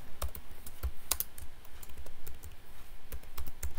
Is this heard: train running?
no